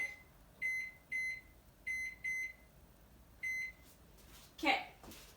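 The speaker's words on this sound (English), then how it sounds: "Okay, I'm going to set my timer really quick." A digital kitchen timer, set while baking banana nut muffins, gives six short high electronic beeps in uneven pairs and singles at a moderate level over faint room hiss, ending in a brief rustle.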